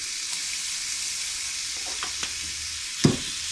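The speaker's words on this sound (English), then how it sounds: "I'm gonna start frying the meat up." Meat fries in a pan with a steady close hiss and sizzle, a few soft stirring scrapes and one louder clink near the end, no voices.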